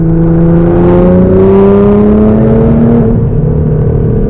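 A tuned Nissan GT-R making over 600 wheel horsepower, fitted with an Armytrix straight-pipe exhaust with valvetronic control, roars loudly and steadily from inside the car, its engine note climbing in pitch as it accelerates hard through the gears.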